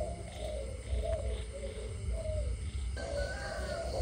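A Malaysian spotted dove coos softly in low, rounded notes over a steady background hum, with faint chirps from other birds; there is no talking.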